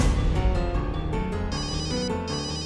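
A phone rings in a Tamil TV serial, its melodic ringtone repeating a bright stepping pattern of tones, loud and alone for a couple of seconds.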